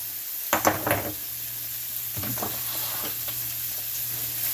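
Ground beef sizzles in a pan as turmeric is stirred in, a steady hiss broken by two bursts of scraping spatula strokes close by.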